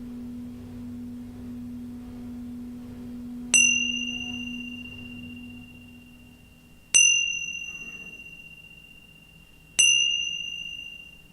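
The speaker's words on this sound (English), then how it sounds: "there's going to be the tingsha bells to clear the space one more time" Tingsha bells struck three times at even intervals to clear the space, each a bright, piercing ring that decays slowly over a faint low hum, with no voices.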